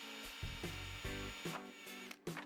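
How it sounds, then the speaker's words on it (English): A drill bores small holes into a moulded plastic tool case in short, repeated bursts, about six quick grinding pulses, faint and close with no talk. "Drill holes that are almost the diameter of the wire."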